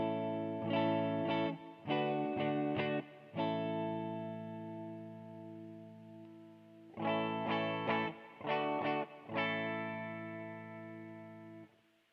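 An electric guitar played through a Dumblifier Overdrive Special pedal with hall reverb: two bursts of loud, sustained overdriven chords, each ringing out and decaying into a long, smooth reverb tail, with no talking.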